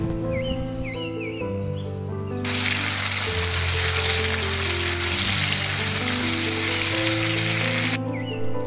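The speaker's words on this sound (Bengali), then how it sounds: "এখন এখানে আমড়া দিয়ে দিচ্ছি, আমড়াটা দিয়ে ভালো করে নেড়ে চেড়ে নিচ্ছি।" Hog plums for pickle fry in oil while being stirred, a loud, steady sizzle that swells in after a couple of seconds and holds before easing off near the end, over a tonal background.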